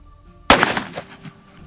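A Ruger Blackhawk revolver fires a single heavy .45 Plowboy Magnum load, a loud, sharp close-range blast that rolls off into a decaying echo over about a second.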